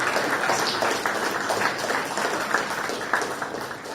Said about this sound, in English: I think we need to give ourselves a round of applause for what has been going on in education.